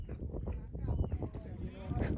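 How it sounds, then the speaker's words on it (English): Birds with white beaks call outdoors at the Five Fingers lookout in the Austrian mountains, giving short, thin, whistled notes over a steady rushing background. "These birds have white beaks."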